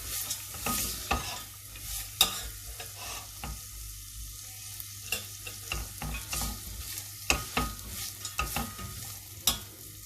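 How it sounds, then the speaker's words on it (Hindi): Dry fruits frying lightly in melted butter in a pan for sheer khurma, a steady soft sizzle punctuated by frequent spoon stirs and sharp scrapes against the pan, close and without speech. "ये ड्राई फ्रूट। इनको हम 1 से 2 मिनट में हल्का सा फ्राई कर लेंगे।"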